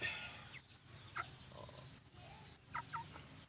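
Rhode Island Red chickens in a backyard flock, making soft, faint clucks and a few short higher calls over a low ambient hum, heard from a short distance with no voices.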